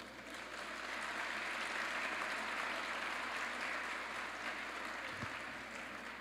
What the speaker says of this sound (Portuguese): Palmas para vocês aí.